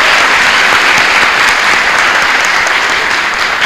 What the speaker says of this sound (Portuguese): solicitamos mais uma vez uma salva de palmas para a Mariana